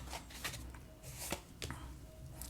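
Tarot cards shuffled by hand before a draw, a faint riffling and soft flicking in short bursts, close and quiet with no talking.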